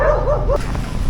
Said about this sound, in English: Probably hear the dogs kicking off in the background